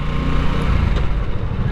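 A Harley-Davidson Nightster with a water-cooled engine running at speed, a loud, steady low rumble with constant rushing wind noise and no clear gear shifts.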